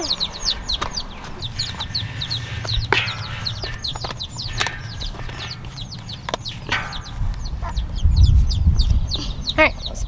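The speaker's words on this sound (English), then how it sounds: "These new chickies are probably starving." Young chicks peep and cluck in a busy chorus of rapid, high chirps up close, with light shuffling and a low rumble underneath.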